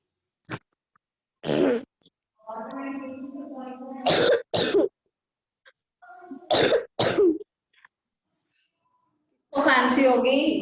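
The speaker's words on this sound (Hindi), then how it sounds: "तो खांसी हो गई" Someone coughs during a class lesson: loud, sharp bursts, several in quick pairs, with a stretch of a voice speaking between them and near silence in the gaps.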